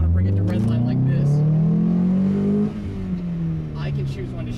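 A manual-transmission car's engine revs steadily upward toward redline for over two seconds, then drops off and settles into a lower drone, loud and close inside the cabin.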